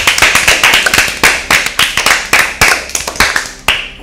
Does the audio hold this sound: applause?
yes